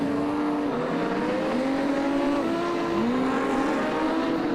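Modified sedan race cars roar around the Lismore Speedway dirt oval, several engines layered loud and constant with rising and falling revs as the pack runs three wide.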